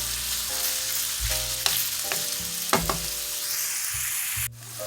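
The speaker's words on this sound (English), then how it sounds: "we're going to cook the ground beef until it's brown" Ground beef and onion sizzle and crackle in a hot pan while being stirred, with scraping strokes and a steady frying hiss that stops abruptly near the end.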